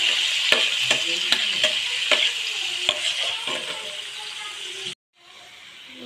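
Onions with a little ginger and garlic sizzle steadily in a hot pan, a continuous close frying crackle with several sharp stirring clicks, then a brief cut before the sizzle resumes more quietly.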